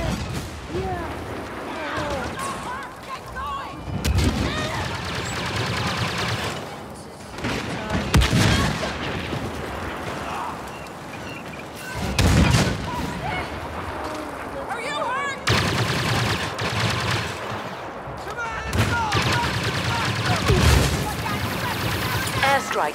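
Heavy walker gunfire in the Star Wars Battlefront video game: repeated loud booming shots and blasts over a dense, continuous battle din, with a voice talking throughout.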